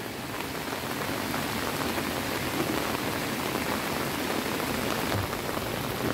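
Rain falls steadily over a rural Indonesian village, a dense, even hiss of drops on surfaces that holds constant throughout, with no voices.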